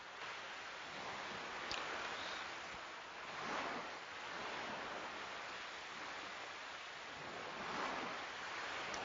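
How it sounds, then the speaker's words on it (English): Ocean waves wash in the Chrono Cross video game, a soft continuous surf with gentle swells rising and falling every few seconds, heard alone without talk. "Listen to how beautiful those waves sound."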